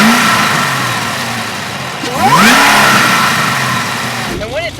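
A supercharged Cadillac LSA V8 with custom ground camshaft, ported supercharger, ported cylinder heads and long tube headers idles loud and close with a lumpy burble, broken by a couple of quick throttle blips.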